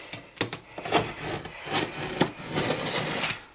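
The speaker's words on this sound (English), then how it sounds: "follow all your lines with a utility knife of some sort." A utility knife scores along marked lines on the backing of a heavy rock slab, giving repeated scraping, rasping strokes of varied length, close and fairly loud, with no talking.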